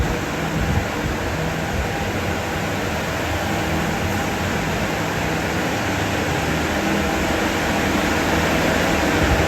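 A fan blowing hot air through ducting on a container kiln, a steady loud broadband rushing hum that holds unchanged throughout with no talk.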